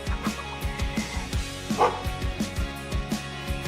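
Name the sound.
small abandoned dog barking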